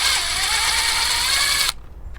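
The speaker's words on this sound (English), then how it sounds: "with the camshafts installed, we're good to remove this bolt now" A hand ratchet clicks quickly and steadily while loosening a bolt on a Toyota 5S-FE engine from a 1991 MR2 during long block assembly, a close, even run of clicks that stops abruptly.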